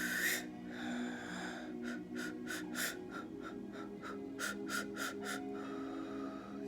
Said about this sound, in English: So again, we're going to breathe in.